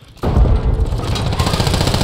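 A loud burst of rapid automatic gunfire from Call of Duty Warzone on Rebirth Island starts abruptly and keeps rattling close by in a dense, booming stream.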